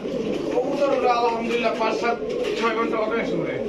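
Pakistani Kaldam pigeons coo in a low, steady murmur under constant talk, likely at a pigeon market stall, their soft throaty calls blending into the chatter.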